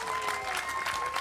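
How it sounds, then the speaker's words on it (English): A brief burst of steady applause from a crowd at a Super Smash Bros. Ultimate team tournament grand final, dense clapping filling the whole moment. "Round of applause for these guys."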